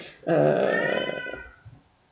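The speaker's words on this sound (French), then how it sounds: "c'est mon chat qui miaule" A pet cat gives a single loud, drawn-out meow close by, lasting about a second and trailing off into quiet room sound.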